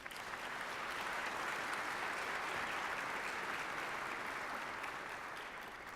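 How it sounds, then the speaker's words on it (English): An audience at a downtown civic address gives a sustained round of applause, a steady wash of clapping from a large crowd heard at a moderate distance. "Let's give them a round of applause."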